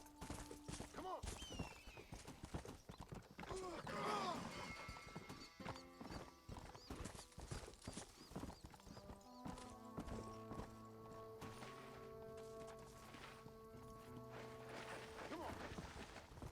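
Hooves clip-clop at a quick galloping pace in the video game Red Dead Redemption, with a horse whinnying and game music playing alongside.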